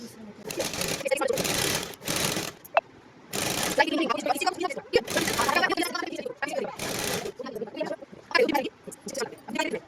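A sewing machine stitches a pant in bursts of rapid mechanical whirring, stopping and restarting several times close by, with someone talking over and between the runs.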